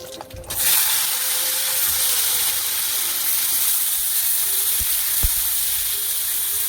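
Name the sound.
tomato, mango leather and dates cooking in pan for chutney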